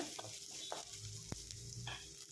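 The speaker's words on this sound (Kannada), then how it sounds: "ಅರಿಶಿನ ಹಾಕ್ಕೊಂಡು ಫ್ರೈ ಮಾಡ್ಕೊಳ್ಳೋಣ" Frying with turmeric in a pan, a soft continuous sizzle with occasional light stirring scrapes, quiet and close, no voices.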